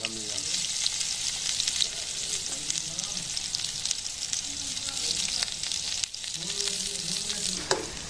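Onions frying in hot oil: a steady, dense crackling sizzle fills the whole stretch at close range, with occasional stirring scrapes and soft talk faintly underneath.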